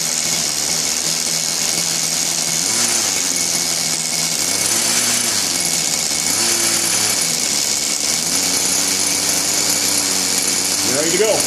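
Nitro engine of a Kyosho Concept 30 RC helicopter running steadily with a high buzzing drone that rises and falls slightly in pitch as it is trimmed at idle, close and continuous throughout.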